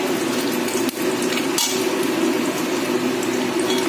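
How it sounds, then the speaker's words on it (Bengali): Whole spices frying in hot oil in a wok give a steady, dense sizzle and crackle throughout, with a brief clatter partway through and no voices. "এবার ফোড়নগুলো একটু ভাজা ভাজা হবে"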